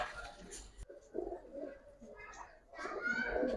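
Giribaz and coloring pigeons coo in soft, repeated low calls, with a person talking quietly nearby.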